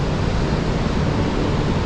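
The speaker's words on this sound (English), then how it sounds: "It is the biggest waterfall in Yellowstone" The widest waterfall in Yellowstone Park roars as a steady, dense wash of falling water, loud and unbroken, with no voices over it.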